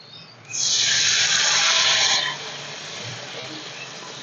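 A little water being poured into potato curry as it cooks, heard as a loud steady splash and hiss lasting under two seconds, then a softer sizzle that carries on afterward.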